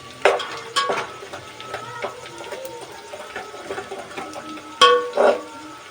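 Onions frying in a pan for egg biryani, a faint sizzle under intermittent stirring clinks and scrapes, with a couple of louder knocks against the pan and no speech.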